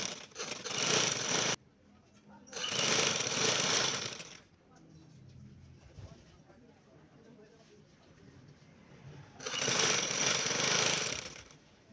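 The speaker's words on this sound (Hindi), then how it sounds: "अब मैं लगाऊंगी, मैं सिलाई स्टिच कर लूँगी" A sewing machine stitches a placket strip onto fabric for a V-neck with a flat collar. Loud mechanical whirring runs in three bursts, the first two back to back and the third after a quieter stretch with soft handling noise.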